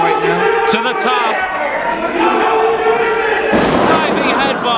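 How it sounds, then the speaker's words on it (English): A wrestling crowd cheers and roars in an indoor venue while a commentator talks over it, and the noise swells to a loud burst near the end. "The crowd is strongly behind him right now"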